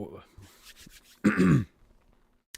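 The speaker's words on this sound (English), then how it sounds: "I'm not crying. I just coughed." A person coughs and clears their throat in one harsh, close burst of about half a second, with quieter breathing and faint vocal sounds before and after.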